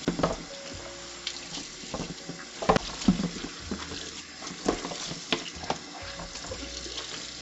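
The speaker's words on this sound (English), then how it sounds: "Just rinsing this down." Running water rinses down a dish rack over a sink, a steady splashing wash with scattered clatters and drips, close and moderately loud.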